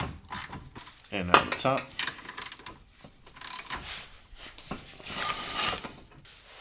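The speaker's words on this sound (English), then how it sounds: "So now we'll tighten up the two brackets here on the driver's side." A hand ratchet clicks in short, fairly close bursts while tightening the driver's-side sway bar bracket bolts during a rear sway bar and subframe reinforcement install on an Audi B5 S4, with a brief spoken line in between.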